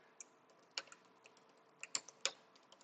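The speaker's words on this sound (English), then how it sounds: "I have to reach over because my Bluetooth keyboard, I just got it and I had to charge it." Light, sparse keystrokes on a Bluetooth computer keyboard, a handful of faint irregular clicks with a few sharper taps, in a quiet room with no talking.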